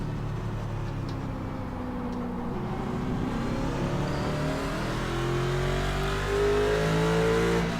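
A race car at Road America holds a steady, droning engine note through the whole stretch, with the pitch of its harmonics rising as it accelerates and growing slightly louder toward the end, with no talk over it.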